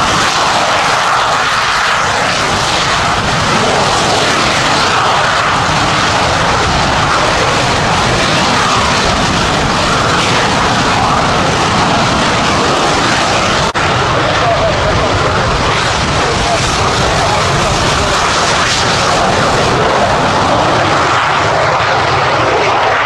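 Display aircraft taking off at the Royal International Air Tattoo air show, a loud, sustained engine roar that holds steady throughout with a broad rumble and faint voices in the background.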